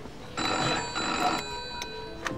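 A telephone bell rings in bursts at a restaurant reception desk in a wartime-era setting, fairly soft, with a steady electric ring repeated about three times and no talk over it.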